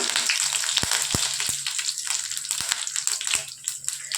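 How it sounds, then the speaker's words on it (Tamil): Spices, curry leaves and a halved dried red chili fry in hot oil for a spinach thokku, giving a continuous bright sizzle close by, with occasional sharp pops and crackles. "பாருங்கள் நல்லா பொரியுது"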